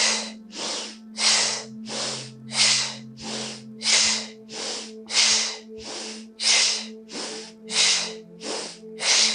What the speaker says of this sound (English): Forcing the air out with the strength of your core.